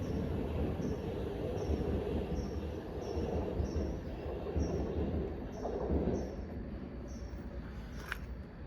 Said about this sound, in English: As that departs, we have a pair of 465s approaching.